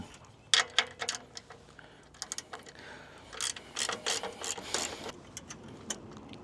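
A ratchet wrench tightens a bolt on a Young Electric Camouflage 2 e-bike rack with ramp, giving irregular runs of quick, close metallic clicks with a few brief pauses between them.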